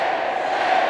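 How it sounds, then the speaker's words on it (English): Crowd voices in a fight ring in the film Escape From New York, a dense, steady roar of many people chanting and shouting together, loud and continuous throughout. "the crowd starts chanting his name"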